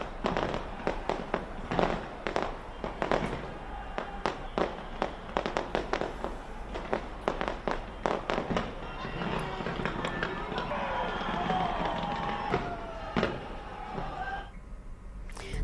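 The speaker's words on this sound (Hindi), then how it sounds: "ऑकलैंड का ये स्काई टावर आतिशबाजी से रोशन हो उठा।" New Year fireworks over Auckland's Sky Tower, a rapid string of sharp cracks and bangs at varying distances over crowd noise, thinning briefly before more bursts, with people's voices faintly mixed in.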